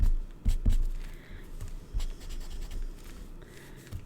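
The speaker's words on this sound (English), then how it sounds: "So just take away your pencil marks." A rubber eraser rubs pencil marks off black cardstock during card making, giving a few short scratchy scrubbing bursts close up against a quiet room background, with no talking.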